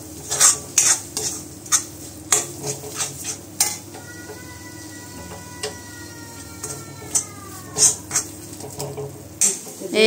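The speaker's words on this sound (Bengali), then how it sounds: "এখন সবগুলোকে একসঙ্গে মিশিয়ে কষানো হবে।" A spoon scrapes and clinks in a pan of onion curry thickened with gram flour as it sautés, with a steady low sizzle beneath repeated sharp metallic knocks and scraping strokes, close and without talk.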